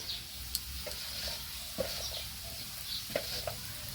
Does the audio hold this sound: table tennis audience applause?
no